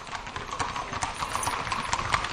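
Horses' hooves clip-clopping steadily as a group of trail horses heads out single file from camp onto a wooded trail, a close, continuous patter of overlapping steps.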